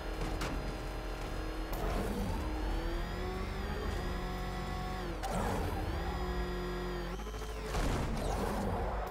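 The Batmobile in Batman: Arkham Knight driving: a loud, sustained engine drone with rising and falling revs and pitch sweeps, plus occasional bursts of heavier rumble.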